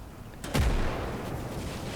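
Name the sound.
artillery strike firing in Gates of Hell video game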